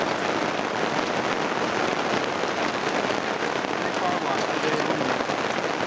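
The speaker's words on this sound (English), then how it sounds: "definitely raining." Thunderstorm rain in Mammoth falling hard on puddled ground: an unbroken, loud, dense wash of drops pattering close by, with no voices.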